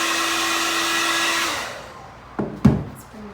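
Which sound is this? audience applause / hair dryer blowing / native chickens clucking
hair dryer blowing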